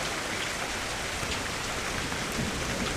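Heavy rain pours down steadily and loudly, a dense, continuous hiss with no pauses; no distinct thunder crack stands out.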